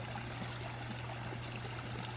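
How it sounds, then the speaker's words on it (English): A stream keeps flowing through freezing weather, giving a steady, even rush and trickle of water. It is quiet and continuous throughout, with no voices. "you can see the water is still flowing"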